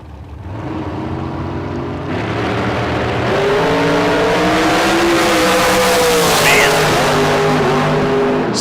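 Drag racing cars roar down the track at a Las Vegas spring event, engines rising in pitch as they accelerate, loud and close, with an announcer talking over them.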